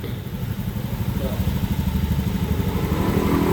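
A Honda Beat FI motorcycle engine idles steadily at about 1500 rpm with an even, rapid low putter that holds level throughout, close and fairly loud, while a person talks over it.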